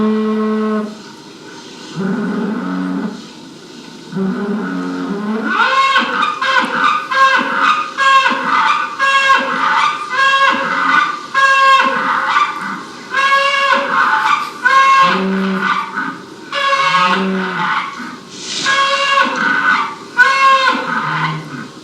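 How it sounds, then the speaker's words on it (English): Chillingham wild cattle call over and over in a field, cows bellowing and a bull lowing in long, loud, tonal moos that overlap and come in close succession throughout. "vocalizations going on here, and the cow calling and the bull's lowing"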